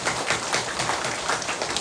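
A church congregation claps together in dense, continuous applause at a Catholic Saturday prayer meeting, with many hands clapping at close range.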